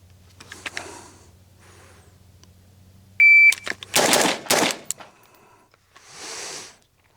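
Pistol fired at a target with a Boise Black Rifle "Cheap Bastard" build: a short electronic timer beep, then two loud, rapid shots in quick succession, each with a brief echoing tail, followed by quieter rustling.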